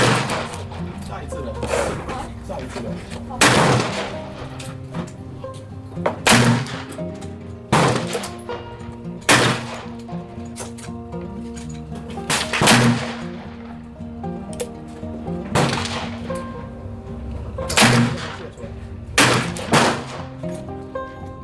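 Uberti 1861 cap-and-ball revolvers firing black powder loads at an outdoor shooting range, about a dozen sharp, loud reports spaced irregularly every second or two, with ringing echoes and faint background chatter between shots.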